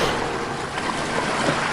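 A steady, even wash of sea surf fills the moment, continuous breaking-wave hiss with no voices, moderately loud and close.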